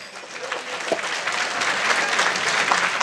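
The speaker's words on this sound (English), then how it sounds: "how about a nice round of applause for best man, Ryan Ranger." Wedding guests clapping for the best man, a dense, steady round of applause that swells slightly over a few seconds, fairly close and with no talk over it.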